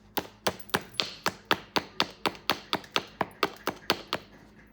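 A paddle strikes Kentucky hornstone during flint knapping, producing about sixteen sharp, evenly spaced taps in a quick steady rhythm. Each knock is close and clear, with no talk over it.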